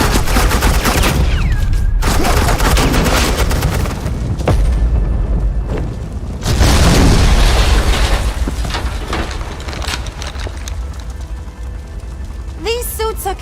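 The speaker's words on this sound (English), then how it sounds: "Suppressing fire." Suppressing gunfire in Batman: The Enemy Within, a dense and continuous barrage of shots and booms filling the whole stretch, with voices heard over it.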